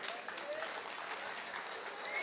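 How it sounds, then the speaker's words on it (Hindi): A live comedy show audience breaks into clapping on cue, a dense, steady patter of many hands from a crowd, slightly hazy, running unbroken through the moment with a faint tonal whistle briefly over it. "बजाओ ताली"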